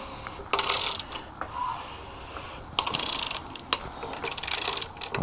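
A ratchet on the crankshaft bolt turns an LS2 engine by hand, producing close bursts of rapid clicking in three separate spells with brief quiet gaps between.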